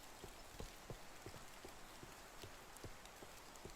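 Horse hooves clip-clop at a steady walking pace in Medieval Dynasty, light repeated knocks under a constant rain-like hiss, with no talking.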